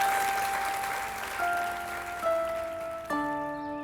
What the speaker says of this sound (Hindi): बच्चों, जोरदार तालियों से विक्रांत साहब का स्वागत किया जाए।